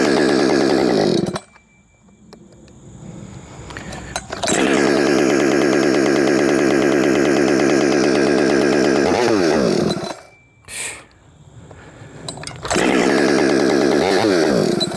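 A Husqvarna C83 chainsaw engine runs loud and close, revving hard with a steady high buzz, then dropping to idle twice before surging back up, with no voices.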